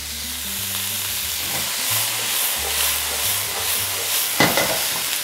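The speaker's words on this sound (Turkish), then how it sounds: "Cos sesini duymak ister misiniz?" Hot oil is poured over peppers for a spicy canned tomato and pepper preserve, setting off a loud, close sizzle that swells and then settles, with a sharp burst near the end.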